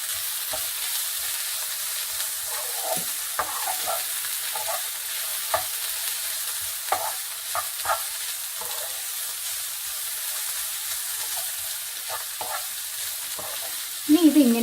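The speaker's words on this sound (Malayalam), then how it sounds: "ഇളക്കി കൊടുക്കാം" Green beans stir-frying with chilli powder in a pan for Kerala beans mezhukkupuratti, a steady background sizzle broken by scattered spoon scrapes and knocks, growing louder with a brief clatter at the very end.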